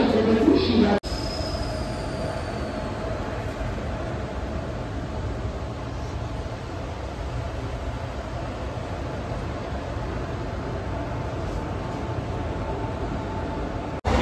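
A train from Pune to Panvel moves off with a steady, even rumble and a faint airy hiss that continues unbroken.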